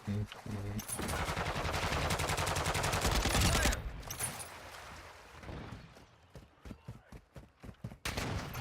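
Sustained automatic gunfire in a military shooter video game, dense and loud for several seconds, then thinning into scattered bursts and shots, with brief voice chatter at the start.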